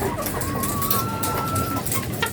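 A hen clucks and cackles steadily in a warm coop during an egg harvest, her rising calls running nearly continuously at close range over a busy, rustling background.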